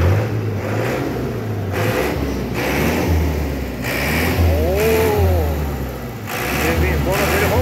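The engine of a 1979 Mercedes-Benz 1313 truck revs in several loud surges, rising and falling between idles, while someone talks over part of it.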